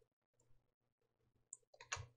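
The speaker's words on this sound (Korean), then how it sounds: "이때 선택한 휴지통을 실행하도록 엔터키 눌러봅니다." A computer keyboard's Enter key is pressed once in a quiet room, giving a crisp, fairly loud click near the end, with a few faint softer clicks before it.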